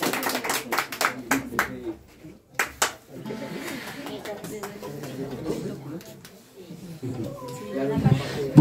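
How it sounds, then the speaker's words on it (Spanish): Audience clapping at a quinceañera celebration with a mariachi, bursts of hand claps under an announcer's voice and crowd chatter, loud and close. "El aplauso bien fuerte para ella."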